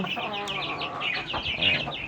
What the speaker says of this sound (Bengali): আমার আছে একটি মোরগ একটি মুরগি